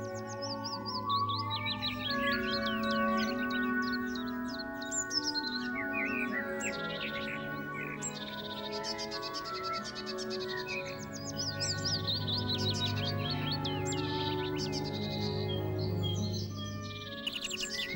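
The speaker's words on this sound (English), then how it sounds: "These little redpolls are really attractive birds, especially the male" Small redpolls chirp and twitter continuously at a garden seed feeder in breeding season, with a dense, overlapping chorus of other garden birds calling alongside, fairly close and steady throughout.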